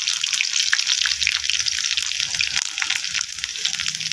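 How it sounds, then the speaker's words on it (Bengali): Garlic and spices sizzling in hot oil for frying, a steady bright hiss and crackle running continuously throughout at close range, with no talk over it. "আমার তেলটা গরম হয়ে গেছে, আমি ভাজা করবো, তার জন্য আমি এখানে ফোড়নটা দিয়ে দিলাম, রসুন কুচি দিয়ে দিলাম"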